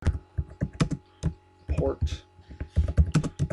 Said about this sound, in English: And we're typing Florida